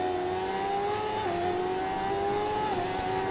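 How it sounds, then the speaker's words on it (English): A BMW S1000RR superbike engine in the Ride 4 racing game holds a steady, high-pitched whining drone with slight pitch dips as gears or throttle shift, continuous and fairly loud with little low-end weight. "The sounds for this BMW, if I'm completely honest, it's a bit flat. Isn't much bass to it."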